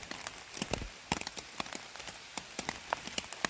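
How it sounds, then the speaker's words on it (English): Rain patters steadily on a surface nearby, heard from a hammock on an Appalachian Trail section hike in Georgia, with scattered sharper drops ticking irregularly over a soft background hiss. "Watching it rain from the hammock."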